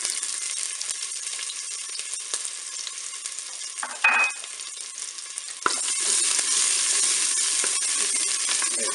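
Garlic and shallot fry in hot olive oil inside a Cookeo pot, a steady bright sizzle throughout with occasional stirring clatters and a metallic clink, close up and with no voices.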